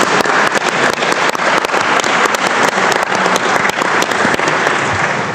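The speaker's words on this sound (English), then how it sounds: "let's give them a round of applause now" Loud, dense applause from a conference hall audience at a Lisbon OSCE Parliamentary Assembly session on security and artificial intelligence, many hands clapping continuously and evenly for the whole stretch.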